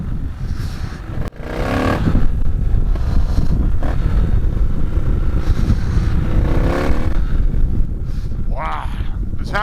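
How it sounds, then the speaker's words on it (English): A Triumph Bonneville T120 with a Tec 2-into-1 exhaust ridden through town, engine note loud and continuous with wind noise, swelling as the throttle opens and dropping briefly near the end. "Let's hear what this thing sounds like in the town."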